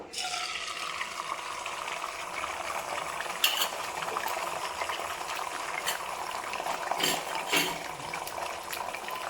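Egg for bhujia sizzling in a hot pan while being stirred, with a continuous close fry hiss and occasional light scrapes and clinks of the utensil.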